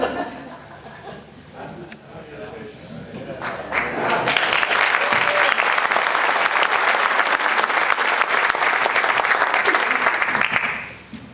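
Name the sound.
audience clapping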